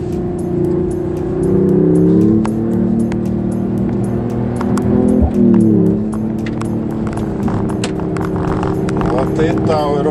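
A Mercedes AMG E 53 Hybrid accelerates along a narrow road, its engine note rising and holding steady from inside the car, with a voice speaking over it.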